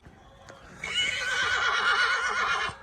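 A mare neighing once, a loud drawn-out whinny with a wavering, shaking pitch, close by and heard alone after a soft thump.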